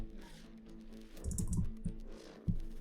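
Computer keyboard keys are mashed rapidly while playing Ender Magnolia, a quiet, dense clatter of close keystrokes that thickens midway and ends with a firmer tap, with no talk.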